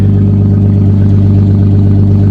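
A car engine with its exhaust cut runs loud and close, a steady deep rumbling drone with a raw, rough edge throughout, no voices over it.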